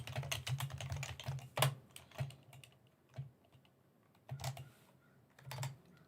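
Clicky computer keyboard typing while writing Kotlin code: quick bursts of keystrokes, then scattered single taps and pauses, close and fairly quiet, with no talking.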